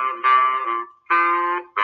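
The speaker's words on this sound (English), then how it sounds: "the baritone sax, which is a big, big instrument, and it sounds really low, and it sounds like this." Low, buzzy baritone saxophone sounding three sustained notes separated by short gaps, played alone and close up.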